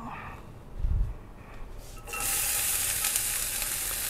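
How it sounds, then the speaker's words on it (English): A brief clatter, then a steady loud sizzle of onions frying in a hot pan for Mexican migas, holding on as a bright, hissing crackle. "You can hear that sizzle. Pan's nice and hot"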